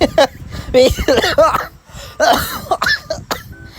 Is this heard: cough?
yes